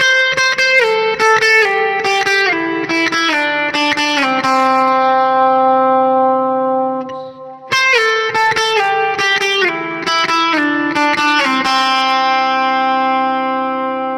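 A clean electric guitar plays the chorus lead of a song as bright, ringing plucked notes in a steady flowing pattern, close and loud. A brief gap falls midway before the phrase repeats.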